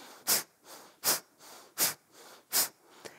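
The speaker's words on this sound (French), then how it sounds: "je pousse le ventre et je souffle par les narines" Four forceful, evenly spaced bursts of breath pushed out through the nostrils during yoga breathing practice, each a sharp close hiss with softer passive inhales between.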